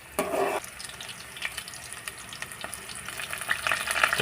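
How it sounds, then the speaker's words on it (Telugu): Chopped onion and green chillies fry in a pan for a village-style boti curry, giving a soft, continuous sizzle with occasional stirring scrapes and pops, fairly close. "ఆనియన్, ఉల్లిగడ్డ, పచ్చిమిర్చి బాగా మంచిగా ఫ్రై కావాలి."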